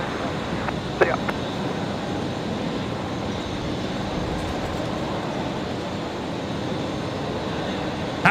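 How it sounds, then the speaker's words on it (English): A Qantas Airbus A330 jet departs Brisbane Airport, its engines a steady, broad distant roar that holds evenly throughout, with a faint click near the start. "That was an awesome departure there from the Qantas 15, the A330."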